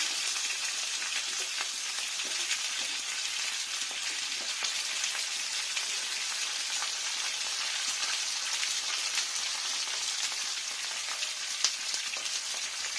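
Raw banana and eggplant pieces fry together in a pan, giving a steady, even sizzle with a faint crackle that holds close and unbroken, with no talking.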